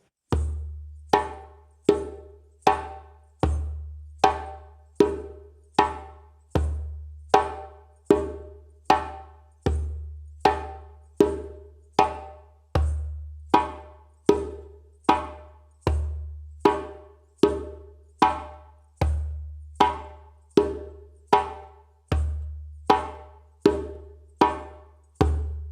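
A djembe plays a steady repeating rudiment of a deep bass stroke, then slaps and an open tone, crisp hand strikes in an even pulse throughout, close and solo without speech.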